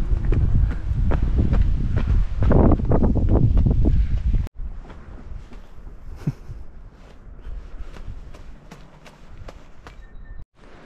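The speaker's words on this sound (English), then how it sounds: "Little bit of wind." Wind blowing outdoors among mountains by Lake Ohau on New Zealand's South Island, a steady rushing buffet against the microphone, heavier and gustier at first, then easing to a lighter, continuous breeze.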